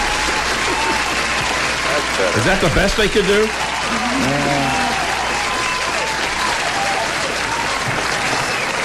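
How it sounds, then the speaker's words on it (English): Applause from a studio audience on a talk show breaks out across the clip, a steady dense wash of clapping with a voice talking briefly over it near the middle. "didn't we have some applause for him?"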